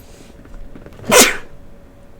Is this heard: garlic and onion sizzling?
no